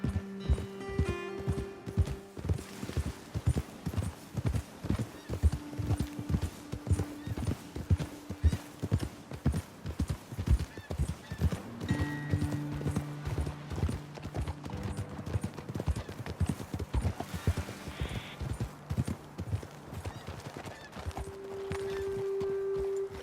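Rhythmic clip-clop of horse hooves at a fast pace in the video game Red Dead Redemption 2, close by, with occasional whinnies and snorts throughout.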